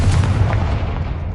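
A Confringo blasting spell goes off in Hogwarts Legacy as a loud, sustained explosive boom with a dense low rumble that holds steady throughout, close and with no talking.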